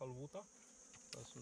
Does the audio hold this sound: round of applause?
no